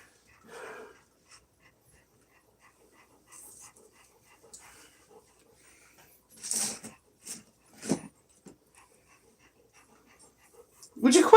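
A pet puppy dog wagging its tail pants in short, soft bursts spaced across quiet stretches, with a few brief breathy huffs near the end, close by.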